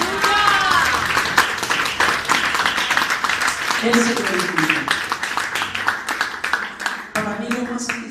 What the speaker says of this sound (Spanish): yo quiero pedirle que le demos un aplauso a Yahweh